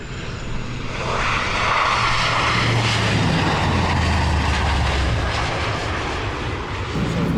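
Cabin noise aboard a Turkish Airlines airliner in flight: a loud, continuous, even engine roar and airflow rumble filling the whole stretch with no talk.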